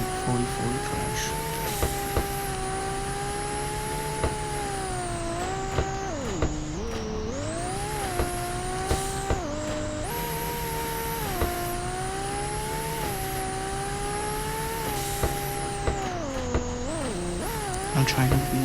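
A 1,300 whp twin turbo Ferrari 599 drifting through city streets in a driving game, engine revving up and down in long sweeps with tire squeals, loud and continuous.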